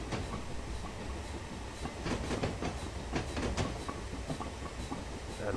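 Steady rolling rumble of a Black 5 steam train on the North Norfolk Railway in winter, simulated in Train Simulator, with repeated clickety-clack wheel beats over rail joints, near and unbroken for a few seconds.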